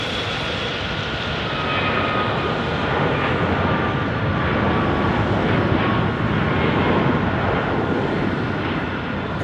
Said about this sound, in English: Sound the heavy alert for China Airlines A350.